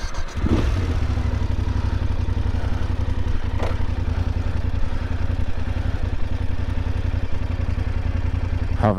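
A BMW F850GS motorcycle idles with a steady, even mid-pitched engine beat and slight mechanical clatter, close and continuous throughout.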